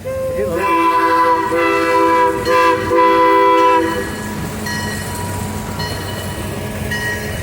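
A small amusement park train at Six Flags Over Georgia blows a loud sustained horn blast with clanking wheels on a rainy day, then rolls on with fainter rattling and background murmur.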